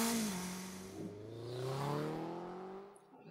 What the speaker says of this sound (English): That motorcycle going by.